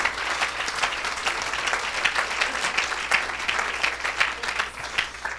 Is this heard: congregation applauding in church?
yes